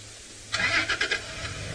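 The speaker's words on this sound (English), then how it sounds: "Sorry for the noise in the background. Our other vehicle is just moving around." A safari vehicle's engine briefly rises and revs nearby for about a second during a sunrise game drive, then settles into a low rumble.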